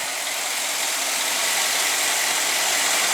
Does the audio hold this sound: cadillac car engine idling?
yes